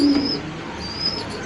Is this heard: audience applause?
no